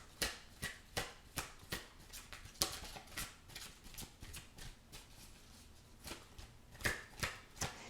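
Tarot cards are shuffled and drawn close up, with a run of quick, crisp flicking riffles and soft slaps at an uneven rhythm, quiet and without voices.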